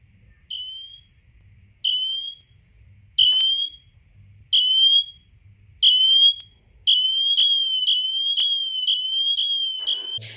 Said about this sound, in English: So you will go ahead and click on the siren, and it does get super loud